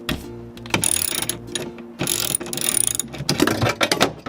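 A hand ratchet clicks in quick bursts while undoing screws on a car door window regulator, close and dry, with short pauses between runs of rapid pawl clicks.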